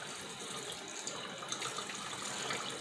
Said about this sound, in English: So now I'm just going to turn this on some cool water.